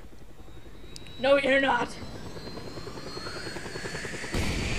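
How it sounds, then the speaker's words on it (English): A news helicopter in the Just Cause 2 video game gives a steady rotor drone beneath a brief line of speech, close and continuous, with a louder swell near the end. "I'm gonna take the news helicopter"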